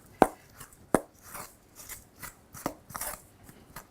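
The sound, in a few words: stirring nutritional yeast and smoked salt in bowl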